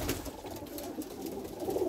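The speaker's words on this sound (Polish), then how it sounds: "naprawdę są piękne gołębie" Soft, low pigeon coos murmur continuously in the background, fairly quiet and close, with no voices.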